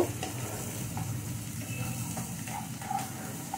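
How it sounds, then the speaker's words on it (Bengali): Upma ingredients being stirred in a hot pan: steady sizzling with scraping and tapping of a spatula against the metal, close and even throughout. "এটা আমি 1 মিনিট মতো নেড়ে নেব"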